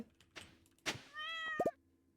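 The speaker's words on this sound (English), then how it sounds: "Perfect meow." A cat in the Stardew Valley game gives a clear meow, a short tonal cry with a couple of quick chirps at the end. Soft clicks and thumps come just before it, and it is heard on its own without talk.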